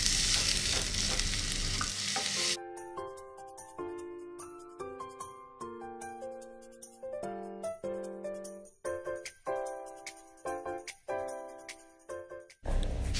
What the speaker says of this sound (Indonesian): Kalau sudah harum, masukkan wortel. Tambahkan sedikit air supaya wortelnya matang.